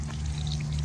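Water gushes steadily from a pump pipe on a farm, a continuous close splashing pour with a low hum beneath, brief and alone with no voices.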